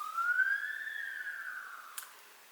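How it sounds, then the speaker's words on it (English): An ambulance siren wails outside as a single rising and falling tone that fades as it passes, faint and distant in a quiet indoor room, with a small click near the end. "That ambulance is not coming from me,"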